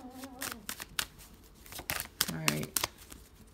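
Tarot cards are shuffled in several quick riffling bursts, interrupted by a brief spoken phrase.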